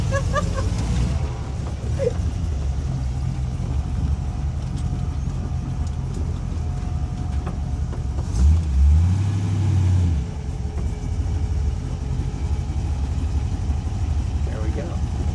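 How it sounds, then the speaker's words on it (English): A car doing a burnout on the drag strip at Eddyville Raceway Park: a steady engine rumble swells into a brief rev midway, mostly under ongoing talk. "Let's do another burnout."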